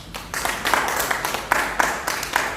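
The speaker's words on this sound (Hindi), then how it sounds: "उस प्रभु के लिए ताली बजाओ।" A congregation at a Hindi-language religious service claps together in steady, rhythmic bursts that sound full and close.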